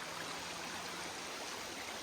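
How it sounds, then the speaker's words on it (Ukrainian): A mountain river in the Carpathians near Deliatyn rushes steadily, a dense continuous broadband roar of flowing water heard close with no voices. "шум річки"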